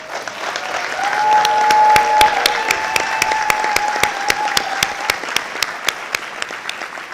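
An audience at a school board of education meeting applauds as names are read, with a sustained, fairly loud wash of many hands clapping and a faint tone underneath.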